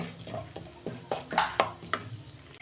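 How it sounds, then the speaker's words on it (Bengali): Whole cumin seeds, cloves, cardamom and cinnamon crackle in hot oil as they are stirred, making sharp, close sizzling bursts and spoon scrapes in an irregular rhythm with no talking. "ওই তেলে আমি লবঙ্গ, এলাচ আর দালচিনি দিয়েছি, গোটা জিরে দিচ্ছি"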